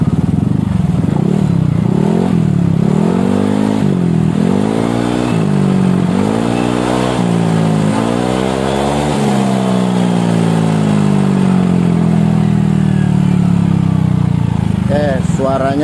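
Yamaha Aerox 155 scooter fitted with a stainless 28-38 header exhaust, revved up to about 7000 RPM: a loud, close engine rising and falling through repeated throttle blips, then held at a steady high drone.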